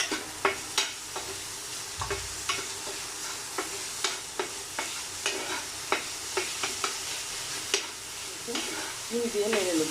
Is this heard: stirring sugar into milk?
yes